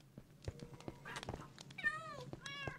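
Several Minecraft cats meowing in quick succession, short rising and falling mews overlapping with small clicks and footsteps, soft and close with no talking.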